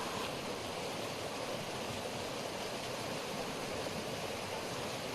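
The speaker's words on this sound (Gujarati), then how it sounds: "તાલાલાના આંબડાશ ગામે બજારોમાં નદીઓની જેમ પાણી વહેતા જોવા મળ્યા છે" Heavy rainwater rushes like a river through the market streets of Ambadash village near Talala, a steady broadband roar of flowing water with no voices.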